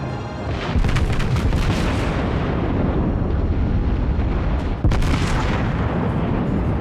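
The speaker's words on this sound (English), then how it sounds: "Speculative shot at the destroyer" Battleship guns firing in the naval game World of Warships, a New York battleship in play: a loud, sustained booming roar of a salvo that swells, briefly dips and surges again.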